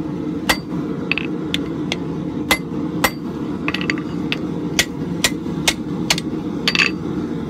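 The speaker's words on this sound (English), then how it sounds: "And just hit kind of off of the anvil." A hammer rings sharply on hot steel over an anvil while a nail header is forged, a dozen or so bright, close strikes at an uneven pace over a low workshop rumble.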